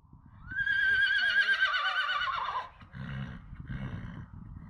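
A horse on the Kazakh steppe gives one long, loud whinny lasting a couple of seconds, followed by quieter snorting and low rumbling.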